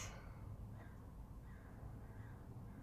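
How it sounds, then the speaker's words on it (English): Several crows caw in a loose series, distant and faint over steady background noise. "Oh, there's the crows."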